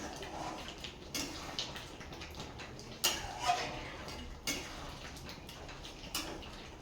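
Taro being ground into paste on a stone grinding slab in a home kitchen: irregular scraping strokes and hard taps of stone on stone at close range, over steady background noise.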